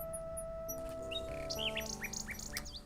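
A little bird in the King's Quest 6 video game gives several quick, bright chirps and tweets over a soft, sustained background melody.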